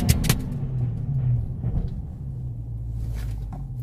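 A Dodge Charger Daytona 392 accelerates up to 60 mph ahead of a braking test, its engine a steady, loud, close low rumble that builds and holds throughout with no talking.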